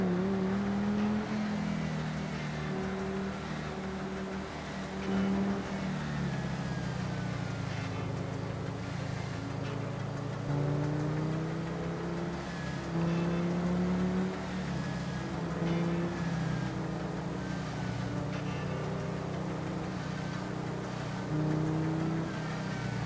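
A car driven in the GTA V video game hums with a steady engine drone and shifting pitch as it accelerates and revs, loud and continuous throughout with no talking.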